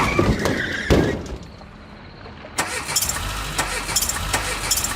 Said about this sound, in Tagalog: bigla na lang bumigay ang makina ng bus